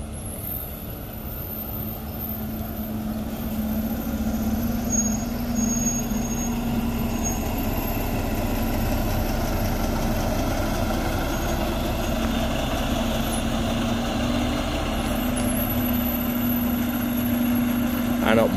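A tour bus idles steadily in a convoy of coaches at Manjoi, Ipoh, Perak, its low engine rumble continuous and even throughout, with faint voices in the background.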